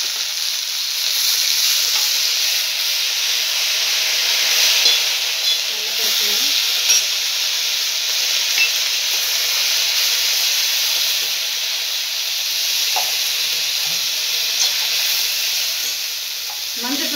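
Banana flower frying in a pan with onion, a loud, steady, close sizzle and hiss of hot oil that persists throughout, with occasional faint clicks of stirring.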